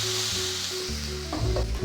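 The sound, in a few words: water poured onto fried potatoes, sizzling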